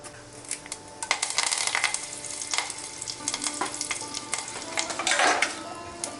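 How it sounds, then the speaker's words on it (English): Mustard seeds, jeera and curry leaves sizzling in hot oil, a steady crackling fry with sharp pops and spatters, plus occasional pan clinks, close and fairly loud, no talking. "We'll put mustard seeds, and after they splutter, we put jeera,"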